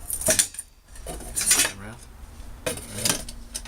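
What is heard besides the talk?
camping stove kettle and pots clinking together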